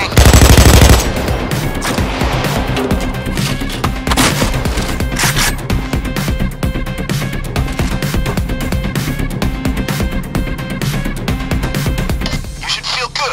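Sustained rapid gunfire in the video game PAYDAY 2, with dense automatic bursts and shots rattling loudly and almost continuously throughout, under a faint bed of game voices.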